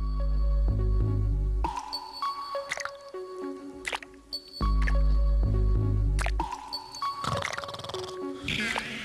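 Water drips steadily into a bowl in a cartoon scene, each drop a distinct, resonant plink repeating in a slow rhythm, loud and close with no talk.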